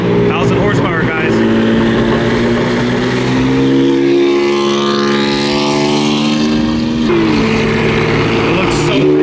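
A thousand-horsepower BMW F80 M3 accelerates hard nearby, its engine note rising in a loud, strained pitch sweep with a brief shift-like break, while voices talk over it.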